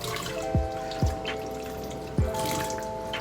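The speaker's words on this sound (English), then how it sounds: "Rinse hands thoroughly with warm running water starting on elbow and moving down to" Warm tap water runs steadily over hands being rinsed at a sink, a continuous close splashing stream with a few sharper splats as the hands move through it.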